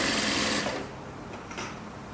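An industrial single-needle sewing machine runs loudly for under a second, then its hum drops to a softer, steady whir with a brief swell near the end.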